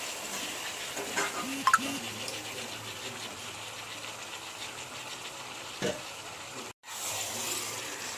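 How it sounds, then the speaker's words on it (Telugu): Fish pieces go into a pan of hot oil with ginger-garlic paste for fish pulusu. A steady sizzle and frying hiss runs throughout with occasional stirring clinks, and it drops out briefly near the end. "ఇప్పుడు ఇందులో ముక్కలు వేసేసేయండి"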